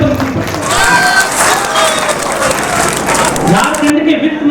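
Audience at a Hindi poetry recital (kavi sammelan) clapping and cheering in a steady, loud burst of applause that fills the hall, briefly dipping near the end before resuming.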